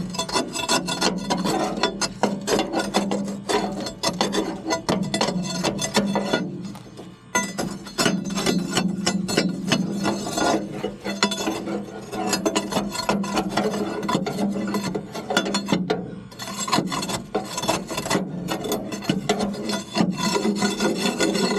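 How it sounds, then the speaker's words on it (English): Scraper bar grinding built-up creosote chunks off the front of a Portage & Main wood furnace, a loud, continuous rasping scrape with rhythmic strokes, clinks and brief pauses. "So I'm just going to get a little scraper bar and I'm going to scrape"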